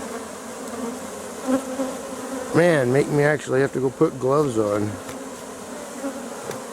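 A swarm of bees hangs around a cart, their buzzing a steady close drone, while someone speaks over it partway through.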